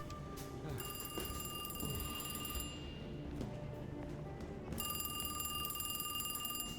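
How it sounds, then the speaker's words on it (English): A telephone rings in the horror video game Alone in the Dark, two long bursts of a shrill electric bell separated by a pause, set over a low, murky game ambience. "Oh, the phone. The phone. Get the phone quick."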